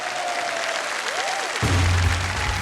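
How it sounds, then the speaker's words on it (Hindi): Studio audience applauding to welcome new contestants on a TV quiz show, a steady broadband wash of clapping that swells louder partway through, with a brief musical tone sweeping over it. "सबसे पहले तो इनका जोरदार तालियों के साथ मैं चाहता हूं कि स्वागत किया जाए"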